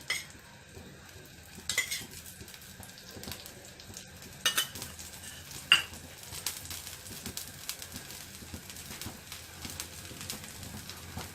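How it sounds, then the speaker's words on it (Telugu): A dosa fries with a little oil on a griddle, giving a soft, continuous sizzle near at hand, punctuated by a few sharper clinks and scrapes of a utensil against the pan. "కొద్దిగా నూనె వేసుకొని కాల్చుకుందాం"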